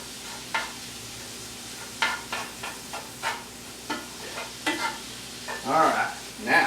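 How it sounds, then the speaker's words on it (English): Cauliflower dirty rice is stirred in a pan with repeated scraping strokes over a soft frying sizzle, close and clear, with the stirring growing busier toward the end. "Just keep stirring it, get it going in there."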